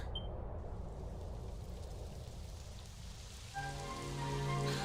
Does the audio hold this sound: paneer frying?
no